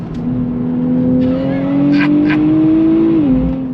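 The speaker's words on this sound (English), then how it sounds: "I'm in Sport Plus mode, and we're gonna freaking go on throttle" 2024 Nissan Z NISMO in Sport Plus mode at full throttle, engine drone rising steadily in pitch from inside the cabin, then a quick drop at a gear shift; loud and continuous.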